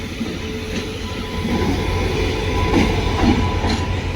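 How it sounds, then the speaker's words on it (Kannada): The Hassan–Solapur Express rolls into platform 5 with a loud, close rumble that swells slightly. Faint wheel squeal and a few clicks of wheels over rail joints come through over the steady drone. "ಹಾಸನ್ ಸೋಲಾಪುರ ಎಕ್ಸ್ಪ್ರೆಸ್ ಈ ಪ್ಲಾಟ್ಫಾರ್ಮ್ ನಂಬರ್ 5ಗೆ ಎಂಟ್ರ್ ಆಗ್ತಿದೆ"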